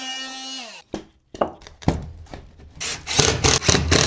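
Drywall is cut for receptacle boxes, a series of close scraping, sawing rasps in uneven bursts that grow louder and denser toward the end, following a short fading tonal hum at the start.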